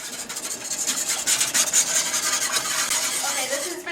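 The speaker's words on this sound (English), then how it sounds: "you're going to want to whisk this in and turn it to a medium-high heat" A whisk scrapes rhythmically through a cheesy enchilada sauce in a pan on medium-high heat, a steady, close rasping swish with repeated strokes and no talking.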